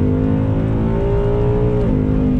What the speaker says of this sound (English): let's go ahead and get on that loud pedal again. This is what makes a muscle car a muscle car.